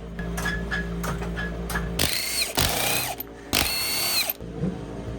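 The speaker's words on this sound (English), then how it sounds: "now we can go ahead and jack this thing up" Ratcheting and mechanical clicks from a jack lifting a Can-Am Defender HD10 utility vehicle being readied for snow, starting with scattered light clicks and then two loud, dense bursts of ratcheting cranks close by, with no talking.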